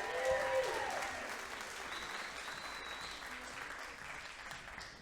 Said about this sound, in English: Let's give the entire crowd a big round of applause